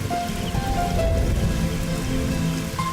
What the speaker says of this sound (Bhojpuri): देखा कितना जोर से बारिश हो रहा बा